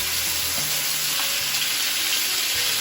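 Lamb browning in a pan with butter, a dense, steady, close sizzle that holds at an even level for a few seconds with no voices.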